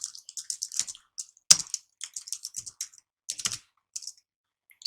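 Computer keyboard typing in quick irregular bursts of light close clicks, with a couple of louder heavier key presses standing out, alone with no talk.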